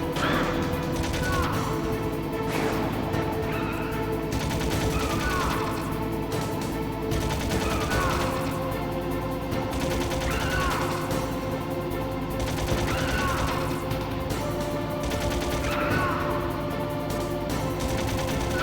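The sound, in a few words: gunshots in video game Metal Gear Solid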